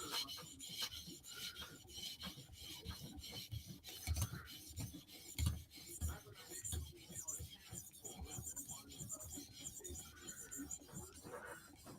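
Spyderco Slysz Bowie knife edge rasping over a sharpening stone in repeated, rhythmic scraping strokes, close and quiet, with a few soft breathy noises between passes.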